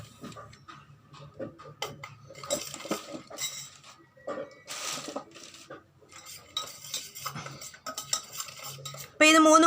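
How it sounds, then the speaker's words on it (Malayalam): A spoon stirring milk powder and rice flour in a bowl, with repeated metallic scrapes and light clinks against the sides in an irregular rhythm, close by, ending in a brief louder burst. "അപ്പോൾ ഇത് മൂന്നും കൂടി നല്ല രീതിയിൽ മിക്സ് ചെയ്ത് കൊടുക്കുക"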